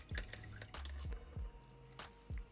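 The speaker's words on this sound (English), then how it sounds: "We're going to wash the brush" Paint brush rinsed in a water pot while painting an Accursed Cultist miniature, a handful of short wet drips and sloshing taps repeating about every half second, close and fairly quiet with no talk.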